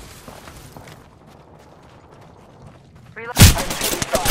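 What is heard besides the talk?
gunfire in a video game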